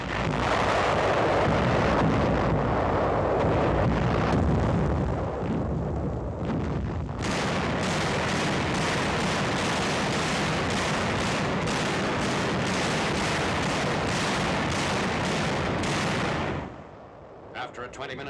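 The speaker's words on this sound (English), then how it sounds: "After a 20-minute bombardment," A 1945 naval bombardment and artillery fire at Ormoc Bay during World War II, a loud roar of explosions that gives way to a long, rapid run of evenly spaced heavy blasts before fading out.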